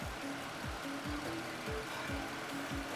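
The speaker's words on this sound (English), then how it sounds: "The engine is running smooth and nice." The engine of a Chrysler Town and Country minivan runs at idle after an oil cooler repair, a steady close hum with regular low pulses.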